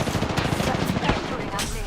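Rapid bursts of gunfire in a battle royale shooter match, dense and continuous through the short stretch, with faint voice chatter underneath.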